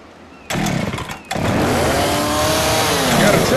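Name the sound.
chainsaw running in video game Left 4 Dead 2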